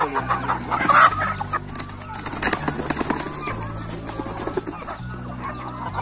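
Naked neck country chickens on a two-acre poultry farm, clucking in scattered, fairly close calls over a low, steady background hum.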